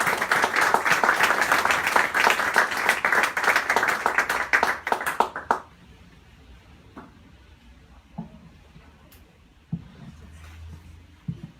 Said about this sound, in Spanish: Pediría un aplauso por ese premio.